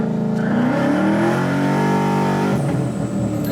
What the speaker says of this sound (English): I'm gonna do one quick little aggressive U-turn slash pull